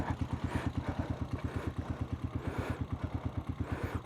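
Pongkan's motorcycle idles near fish ponds during a typhoon ride, its engine thumping in a steady rapid pulse with light rattling and wind hiss above, fairly close and alone without talk.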